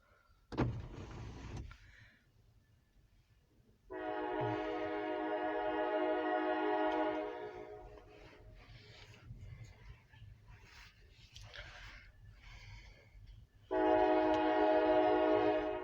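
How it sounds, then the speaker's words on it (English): A Norfolk Southern grain hopper freight train passes at a distance with long blasts of a horn, separated by a steady low rumble of rolling cars. "We got a Norfolk Southern C29 grain hopper train."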